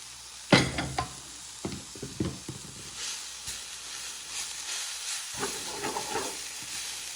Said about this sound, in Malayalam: ചെറുതീയിൽ മൂടി വെച്ചൊന്ന് ആവി കയറുമ്പോഴേ സംഗതി റെഡി